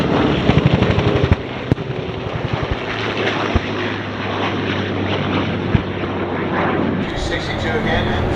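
A Messerschmitt Me 262 jet dives in on an attack pass during an air show, its broad roaring engine noise steady and loud throughout, with someone talking over it.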